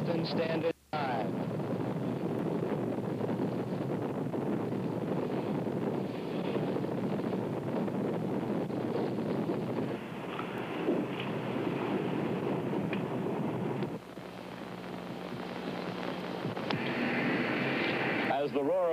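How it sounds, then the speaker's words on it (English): An Apollo 9 Saturn V rocket lifts off with a sustained, loud broadband roar that rumbles on without a break, a narrating voice speaking over it. "the huge Saturn V spewed flame and thunder into life"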